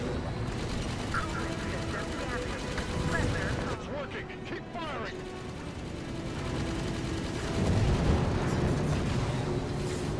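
Gunfire and explosive blasts from the video game Halo 5, a dense, loud mix of shots and booms running throughout, with bright bursts in the middle and heavier thuds toward the end.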